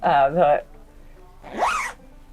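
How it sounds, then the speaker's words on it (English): Two quick zipper pulls on a jacket, a short pair of rasping zips, then a longer rising zip after a brief pause, close up. "I can see the zipper works."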